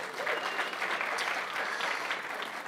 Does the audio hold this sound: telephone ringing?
no